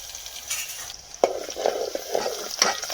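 Garlic fries in oil in a pan with a soft sizzle, punctuated by several sharp spoon scrapes and stirring clatters against the metal.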